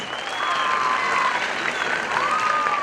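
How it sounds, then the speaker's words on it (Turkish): Applause from the audience at an international short film festival awards ceremony, a steady wash of clapping with faint whistles or tones drifting over it, moderately quiet. "Baran Meyda hakikaten koca bir alkışı hak ediyor."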